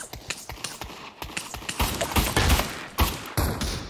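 Rapid bursts of gunfire in the VR video game Hell Let Loose, loud close shots in an uneven rhythm with dense volleys near the middle, under a noisy battlefield backdrop.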